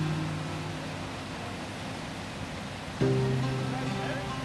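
A Rocky Mountains river waterfall on a cutthroat trout fly fishing trip, a steady close rushing roar of falling water that runs unbroken and grows slightly louder partway through.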